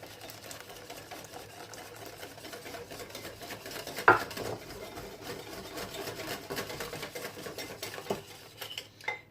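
Lemon juice with zest, warmed and poured into a saucepan, stirred with a utensil scraping and clinking against the pan in a steady, quiet rhythm, with one sharper knock midway.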